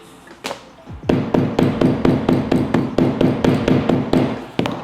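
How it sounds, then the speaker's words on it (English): A hammer strikes repeatedly in a fast, even rhythm on a fabric seam of a golf club head cover, about a dozen sharp close thuds after a couple of isolated taps. "Kind of hammering down the seam."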